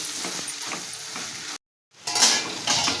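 Onions and cucumber pieces stirred together in a pan for an egg and cucumber curry, with clattering scrapes of a utensil against the pan, a brief silent gap, then louder, brighter stirring noise close up.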